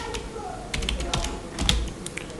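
Keys clack on a computer keyboard in a short burst of quick, uneven taps, ending with a firmer press of the enter key, close-up, with a quiet voice faintly in the background.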